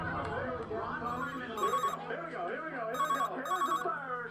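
A telephone rings in repeated short electronic bursts over a steady hum, with people talking through and between the rings.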